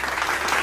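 A class audience gives a short, dense burst of clapping for a group that has just presented, steady and close throughout.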